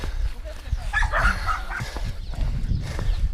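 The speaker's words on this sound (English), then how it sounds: "We're getting barked at a lot." Several dogs barking repeatedly on the island of Saint Lucia, the yips and barks nearby and irregular, mixed with a low rumble and people talking.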